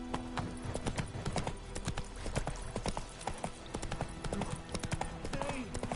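Roach the horse's hooves clop in a steady, brisk rhythm through the video game Witcher 3, close and continuous for the whole stretch, with faint talk in the background.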